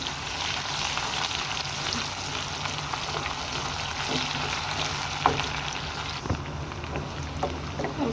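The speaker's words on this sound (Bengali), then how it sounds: "পেঁয়াজ কুচি দিয়ে দিলাম মিডিয়াম সাইজের একটা পেঁয়াজ কুচি পেঁয়াজটা কুচি ভেজে নেব" One medium onion, finely chopped, frying in hot oil with a dense, continuous crackling sizzle, steady and close, broken by a few light clicks of a spoon near the end, with no talking.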